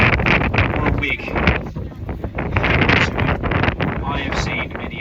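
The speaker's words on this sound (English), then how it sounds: "Occasionally, we will get quite a strong gust of wind, so please do be careful." Strong gusts of wind buffet the microphone on the open top deck of a river boat, a loud, continuous roar with surging bursts throughout.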